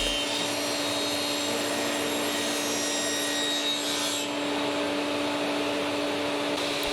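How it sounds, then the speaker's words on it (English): A table saw runs steadily while it cuts grooves in wooden side pieces, giving a loud, constant whine and rush that shifts slightly partway through, close by with no talking. "After setting up the table saw, I can quickly put a groove in all of the side pieces."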